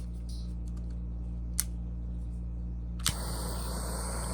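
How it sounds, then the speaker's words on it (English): Small nippers snip a strand on a patriotic walking stick, giving one soft click followed later by a sharper snap over a steady low hum. "I'm going to take my little nippers here and cut it off fairly close"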